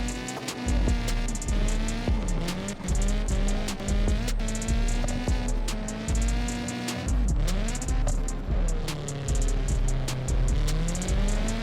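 Nissan S15 drift car in a racing video game, its engine droning loudly and repeatedly cutting out and revving back as it loses power, with choppy rhythmic stutters throughout.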